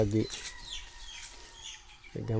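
Chickens outdoors on a farm cluck and chirp softly in the background between stretches of someone talking at the start and end.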